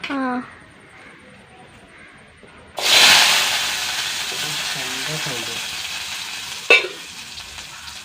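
Small onions drop into hot coconut oil in a pan with a sudden loud sizzle that settles into steady frying, a sharp clatter near the end, and a voice talking over the cooking at the start and in between.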